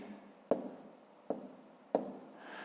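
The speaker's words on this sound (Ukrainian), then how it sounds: "Проводимо вертикальну лінію. Пишемо 3003." A pen writes numbers and rules a line for a fifth-grade math problem, with three sharp taps or strokes spaced apart, close and fairly quiet, and no talk.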